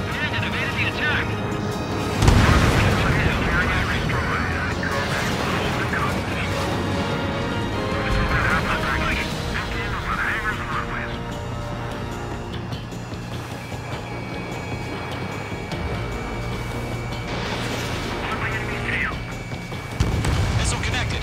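Missile explosions in the air-combat game Ace Combat 7 during a harbor attack: a sharp blast near the start and another near the end, over a steady roar of engines and almost constant radio chatter.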